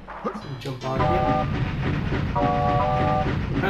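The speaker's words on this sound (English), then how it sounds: "you can hear this with the train beeping" Electronic train beeping in the MediEvil video game, two bursts of steady stacked tones over a loud rumbling game background, with faint talk.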